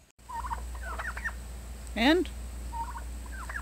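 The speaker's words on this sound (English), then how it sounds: "our turkeys, chickens." Farm turkeys gobble in a loud, rolling burst midway through, with softer bird calls and clucks from nearby chickens and bantams scattered before and after, all outdoors against a steady low background hum.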